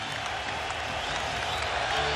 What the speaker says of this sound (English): Oh, this crowd fired up